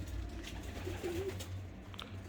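Soft pigeon cooing from rooftop coops at night, a low murmuring call rising briefly over a steady outdoor background hum.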